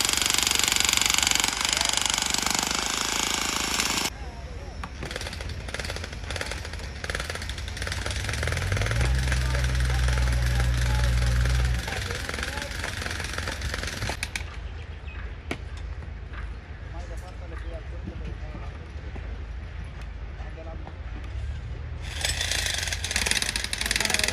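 Loud, steady mechanical pounding and grinding of machines breaking up concrete at a cricket ground, with a deep engine rumble that swells in the middle.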